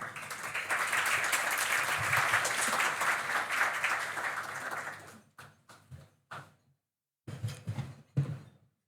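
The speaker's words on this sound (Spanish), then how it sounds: "La recibimos con un caluroso aplauso." Sustained applause from a sizable audience at a university conference fills the room for several seconds, then thins out into scattered final claps and a few soft knocks.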